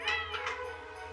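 A domestic cat gives a single drawn-out meow, close and clear, with no talking.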